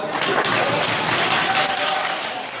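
Dense applause from a large audience, steady and loud throughout, with some crowd noise mixed in.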